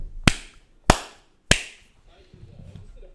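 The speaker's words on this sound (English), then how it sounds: "I'll try to clap again." Three sharp, isolated hand claps ring out at even intervals in a quiet room during a streaming setup test, followed by faint low rumble and murmur.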